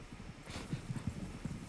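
Hoofbeats of a horse in the Star Stable video game clop in a quick, soft rhythm, close and moderately loud over a steady background hum with no talk.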